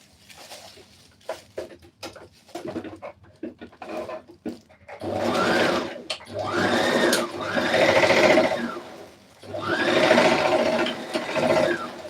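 A sewing machine stitching a red carpet dress runs in several sustained bursts of rapid mechanical whirring, preceded by scattered clicks and handling sounds, loud and close.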